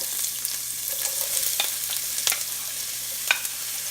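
Chopped large onion sizzling steadily as it is added to hot olive oil for beef and bean chili, with light stirring clicks and small crackles over a continuous frying hiss; no talking.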